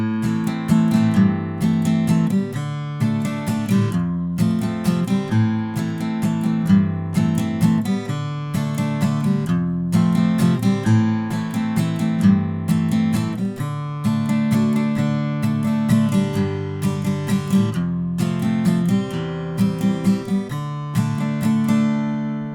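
Acoustic guitar strumming the chords of the piano solo section from a song, a steady rhythmic pattern of clear, bright chords played alone with no voice.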